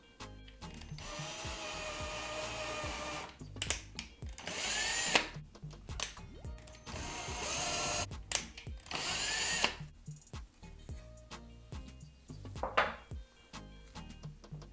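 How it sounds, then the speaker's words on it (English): Power drill boring a pilot hole through bathroom vanity wood for a floating shelf, with several loud whining bursts of a few seconds each, separated by pauses and handling clatter. "I'm going to drill a pilot hole from there"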